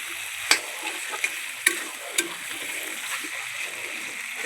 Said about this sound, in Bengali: তখন চাল কুমড়টা দিলাম, এটার একটু ভালো করে লাড়াই না, যাতে মশলাটা ভালো করে ঢুকে যায় চাল কুমড়ার ভিতরে।